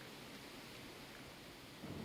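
Thunder in the video game Minecraft Indev, a faint, low, continuous rumble with a rain-like hiss, swelling slightly near the end, with no talk.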